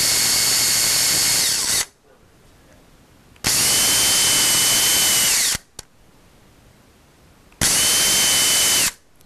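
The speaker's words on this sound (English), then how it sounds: "This is 21/64 drill bit, and I'll just go in about, make sure that's locked, just about a half an inch or so." A power drill fitted with a 21/64 drill bit bores about half an inch into a workpiece, three loud high whirring bursts of roughly two seconds each separated by quiet pauses, close up.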